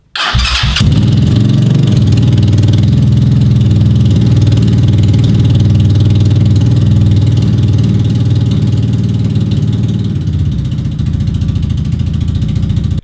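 A worn MZK250 dirt bike engine cranks and catches, then runs loudly and steadily at a rough, mid-pitched idle for the rest of the clip, close by.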